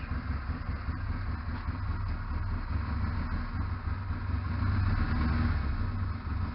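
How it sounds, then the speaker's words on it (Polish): A cold motorcycle engine idles just after its first start following winter storage, a steady low rumble that holds at an even, fairly loud level with a slight swell near the end. "Zapalił bardzo ładnie, ale jest zimny silnik."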